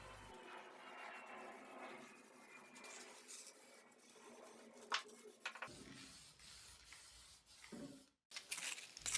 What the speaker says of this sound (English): This can of spray lacquer has been sitting in my shop for about 6 months, but it seemed to do the job